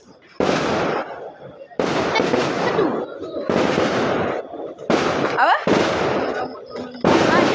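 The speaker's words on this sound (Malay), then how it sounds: "Tengok dia orang main mercun." Firecrackers set off close by in loud, sharp bursts, coming in several dense volleys separated by short pauses, with a brief spoken question between them.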